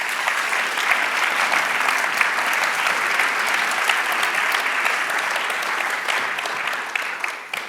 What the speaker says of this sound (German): Einen großen Applaus.